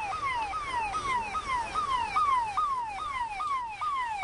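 An ambulance siren wails at Baltal during a rescue for stranded Amarnath Yatra pilgrims, with a rapid, steady falling sweep repeating about twice a second, loud and continuous, with no talk over it.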